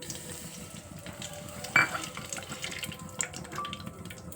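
Oil heats in a pan as it is stirred with salt before corn kernels go in for spicy fried corn, giving a soft steady sizzle with light scraping and a brief clatter of the utensil.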